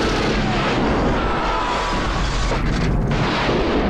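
A rocket launcher blast from the action film Commando erupts as a dense, roaring explosion that fills the whole stretch, loud and continuous with rumbling debris and no speech.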